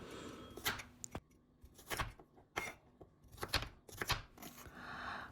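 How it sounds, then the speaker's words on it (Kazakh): A knife chops onions and carrots on a board in a home kitchen, a series of sharp, irregular close knocks with short pauses between bursts, no talking. "Ең алдымен пиязымызды және сәбізімізді осылай турап аламыз."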